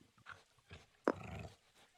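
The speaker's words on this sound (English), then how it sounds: "Village chief's dog." A dog belonging to the village chief in a video game gives a short growling bark with a few softer whimpering sounds around it, fairly quiet and brief.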